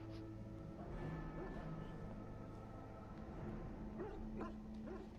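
A dog in the Dragon Age Origins video game whimpers and lets out short yips and barks, with soft, close vocalizations over a quiet game background.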